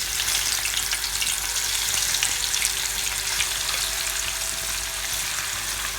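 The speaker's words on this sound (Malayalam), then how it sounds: "പകുതി മൂപ്പാകുന്നത് വരെ മീഡിയം ഫ്ലെയിമിൽ വറുത്തെടുക്കുക." Small fish frying in hot coconut oil over a medium flame, a dense, steady sizzle and crackle that stays loud and close throughout with no voices.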